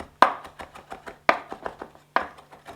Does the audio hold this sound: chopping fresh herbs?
yes